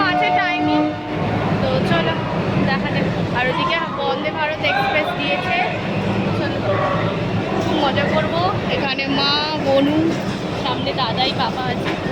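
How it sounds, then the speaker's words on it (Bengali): A passenger train pulls into a busy station on the Howrah to Tarapith route, its horn tooting in tonal blasts over steady rail rumble while people chatter nearby throughout. "এই তো ট্রেন আমাদের"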